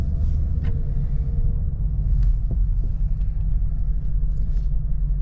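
Deep, steady exhaust rumble from a 2009 Dodge Charger SRT8 with an aftermarket exhaust, heard from inside the cabin as a continuous loud low drone with no talking.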